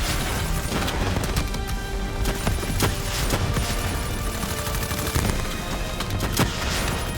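Dense gunfire in Call of Duty Black Ops 3 keeps up as rapid overlapping shots and bursts, loud and continuous with sharp cracks and crashes throughout.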